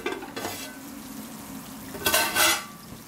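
A curry being stirred in a pan, with a low sizzle running throughout and a couple of louder scraping stir strokes near the end, close and clear with no talking.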